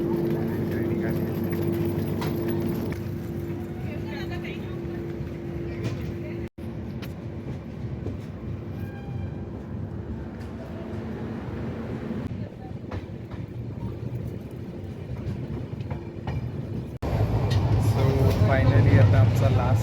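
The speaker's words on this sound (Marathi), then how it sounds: "ट्रेन निघाली." A train leaving Kudal station on the way to North Goa, a steady moderate rumble of the moving coaches from inside that grows louder near the end, with a person talking over it.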